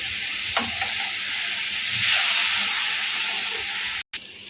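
Chicken chowmein in Kolkata street style being stir-fried in a pan with a little vinegar, giving a continuous loud hiss and sizzle with brief scraping stirs, then a short cut near the end.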